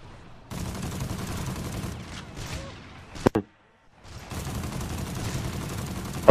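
Rapid volleys of gunfire in a team shooter match, a dense burst of shots for about three seconds, a sharp crack, then silence before another sustained stretch of firing resumes.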